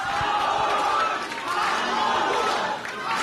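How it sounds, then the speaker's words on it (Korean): Supporters cheer and shout as a party emergency committee chair enters a political rally in Daegu. A dense, loud crowd roar of voices and calls carries on without a break. "한동훈 국민의힘 비상대책위원장이 지지자들의 환호를 받으며 입장합니다."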